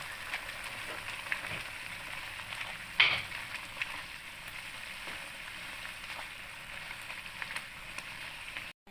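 Curry powder frying in hot oil with ginger in a pan for Ipoh-style chicken curry, a steady soft sizzle throughout with a single sharp clink near the middle, close and moderately quiet.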